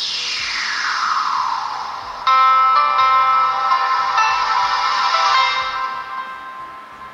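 An Oppo Reno 5 smartphone plays its startup tune when powered on: a swooping tone glides down, then a bright chiming melody rings out loud and clear, sustaining before fading away, with no talking.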